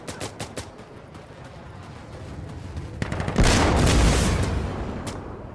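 Bursts of rifle fire ring out in the combat shooter Insurgency: Sandstorm: a few sharp distant shots early on, then a loud, dense volley of gunfire and blasts from about the midpoint that rolls on to the end.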